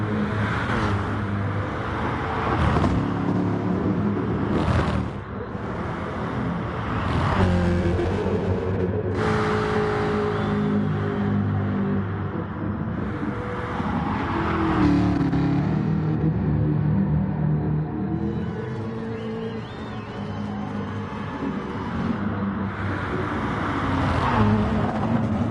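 Sim race cars lapping Spa in a Gr3 pro-am endurance race roar past one after another, engines rising and falling through gear changes and passes, loud and continuous with occasional quieter gaps, no voices heard.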